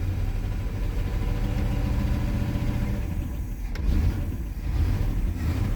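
A 1965 Pontiac Grand Prix 389 V8, started after sitting for over 25 years as a barn find, runs at a rough, loud, steady idle close by, with a slight dip and lumpy unevenness partway through.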